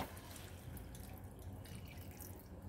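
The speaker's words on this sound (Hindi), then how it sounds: "अब हम इसमें डाल देते हैं 1/2 ग्लास पानी" Half a glass of water poured into a pan of softened tomatoes while cooking a peanut and paneer curry, giving a steady, continuous splashing pour throughout.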